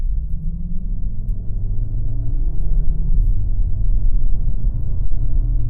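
The engine of a 2021 CUPRA Formentor 310 4Drive rumbles steadily from inside the cabin, rising and falling as it is pushed hard through bends on a twisty road, with road noise underneath.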